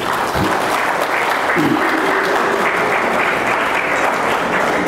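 A crowd at an official event in West Papua claps steadily, dense and loud, sustained throughout with a brief voice rising over it near the start.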